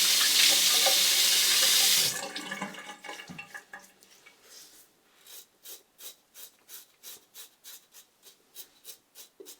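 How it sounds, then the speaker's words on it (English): Running tap water rinses a Parker SoloEdge razor, starting as a loud steady gush for about two seconds, then softer splashes and a run of regular rhythmic taps as the razor is knocked clean, close by with no speech. "Let's have a rinse."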